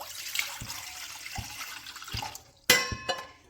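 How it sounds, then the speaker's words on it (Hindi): Water poured into a kitchen steamer for cooking momos, a soft continuous trickle and splash with a few light knocks, ending in a brief ringing metallic clatter of the pot. "स्टीमर में डाल देंगे पानी।"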